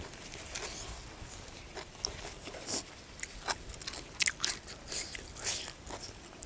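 Roasted cicadas are bitten and chewed up close, with faint, irregular crisp crunches and crackles over a quiet background.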